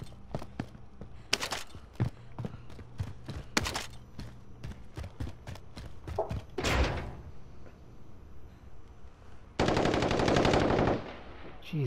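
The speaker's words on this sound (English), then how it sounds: "I'm getting shot again" Video game gunfire: bursts of automatic shots and single cracks ring out irregularly, with a sustained loud rapid burst near the end, all without speech.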